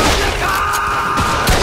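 A shotgun in Mafia 2 booms in heavy, close blasts, a couple of loud reports with rumbling tails over a dense, noisy in-game background.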